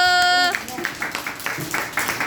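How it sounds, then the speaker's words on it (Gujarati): Young children clap their hands together in a loose, uneven rhythm of light claps, following a short sung adult phrase at the start. "ચલો બાળકો, તાળી પાડો."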